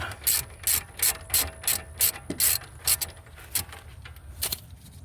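A ratchet with an 18 mm socket loosens a strut nut on a 2009-14 Nissan Maxima S 3.5L V6, clicking in a dozen quick, evenly spaced bursts, close and loud with no talk.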